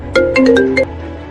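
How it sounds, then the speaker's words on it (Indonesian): A short melodic phone ringtone, a handful of bright electronic tones in quick sequence, loud and close, then it cuts off. "Ada telepon masuk."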